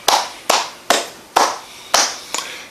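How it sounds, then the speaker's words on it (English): A single person clapping hands alone indoors, six sharp, loud claps spaced about half a second apart, each with a short ringing tail. "I'm gonna have to clap it up."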